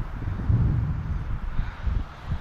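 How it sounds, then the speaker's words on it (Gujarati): A strong winter wind gusts through a snowy London street at minus three degrees, buffeting in low, uneven rumbles that swell and ease, with nobody speaking. "પવન બહુ જબરજસ્ત છે અત્યારે."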